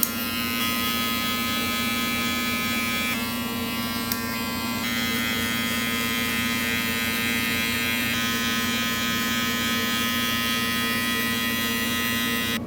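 Electric hair clippers buzz steadily and closely while cutting a drop fade in a barbershop, a continuous even drone with small shifts in tone as the blade works, and no talking.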